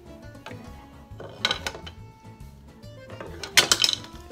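A metal spoon scrapes and clinks against a plate while serving shrimp scampi pasta and its juices, with soft clatters and a couple of sharper taps up close, no talking.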